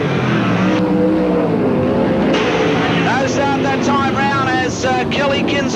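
Sprint cars roar together off the start at Parramatta City Raceway in 1985, a loud sustained engine blare with rising pitch as the pack accelerates, while an announcer calls the race over the top.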